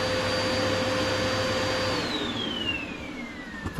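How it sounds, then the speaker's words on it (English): A vacuum cleaner runs close and loud near a wood stove being cleaned, whining steadily before its pitch falls as the motor spins down to a stop. "I put my vacuum too far away to reach."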